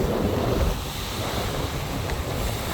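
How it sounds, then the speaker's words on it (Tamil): Large waves break on Palali beach near Jaffna in strong wind, a continuous loud roar of surf with wind buffeting the microphone and no voices. "நல்ல ஒரு பெரிய அலை அடிச்சு கொண்டு இருக்குது."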